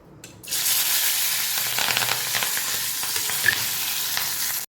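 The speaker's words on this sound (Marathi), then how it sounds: "मी आता कांदा घालते याच्यामध्ये कांदा टोमॅटो आणि ढबू मिरची असं मी एकदमच घालणार आहे याच्यात" Onion, tomato and capsicum hit the hot oil of a tempering for cabbage pav bhaji and set off a loud, sudden sizzle. The frying goes on steadily, with crackles and stirring scrapes, and no one speaks.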